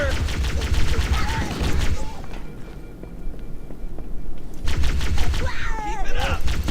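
Bursts of automatic gunfire in the Halo CE video game, rapid fire in the opening and closing seconds around a quieter middle stretch, with shouted voices and other game sounds mixed in.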